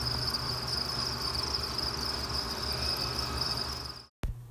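Male crickets in a cricket-rearing enclosure chirp in a dense, continuous high-pitched trill, loud and steady, with a low hum underneath, cutting out abruptly near the end.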